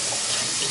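Tap water runs steadily into a bowl of pomegranate seeds for under a second, a dense, close hiss of pouring and splashing with no voices.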